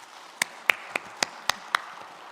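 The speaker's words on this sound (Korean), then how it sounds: "우리 하나님께 영광의 박수 올려드리겠습니다" Six sharp, evenly spaced claps in a church congregation, close and distinct with brief quiet gaps between them, no talking.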